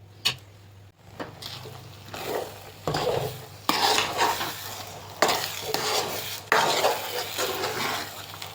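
A spatula stirs mandakki (puffed rice) egg bhurji in a pan, giving repeated scraping strokes over a faint sizzle, close and fairly loud with no voices.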